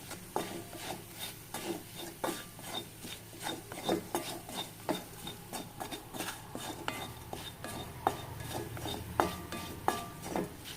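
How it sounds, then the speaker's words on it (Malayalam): Spoon scraping and stirring against a pan while chilli powder and other spice powders roast for kadai paneer, a steady run of rasping strokes, close and moderately loud, with no talking. "നന്നായിട്ടൊന്ന് മണം മാറണ വരെ നമുക്ക് വരട്ടും"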